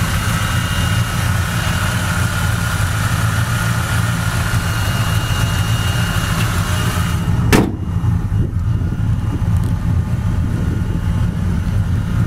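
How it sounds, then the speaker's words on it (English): A 1967 Chevy Chevelle SS convertible idling on a cold day with the choke off, a steady low engine rumble held close and loud throughout, broken briefly by a sharp knock partway through. "We got the choke off. Idle's down nice."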